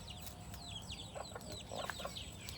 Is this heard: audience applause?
no